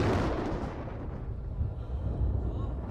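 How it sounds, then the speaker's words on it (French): A deep, rolling thunder rumble booms and swells low and loud, fading over a few seconds and standing alone without speech. "Quelques-uns dirent que c'était le tonnerre"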